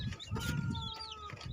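Young chickens, chicks raised on a farm, chirp and cluck in a steady mix of high peeps close by, with several overlapping calls and no speech.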